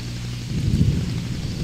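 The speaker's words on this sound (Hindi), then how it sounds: "बारिश हो रही है।" Heavy rain pours steadily in an African rainforest, a dense, continuous wash of noise with a low rumble beneath it and no voices.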